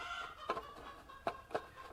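A hen clucks a few times after laying an egg, in quick, uneven bursts, faint and somewhat distant over a quiet background hum.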